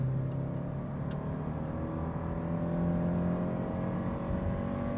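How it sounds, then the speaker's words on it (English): A Subaru Crosstrek with high mileage pulls onto a highway, its engine and road noise forming a steady, continuous drone from inside the cabin with no talk. "Pulling out now onto the highway in our Crosstrek"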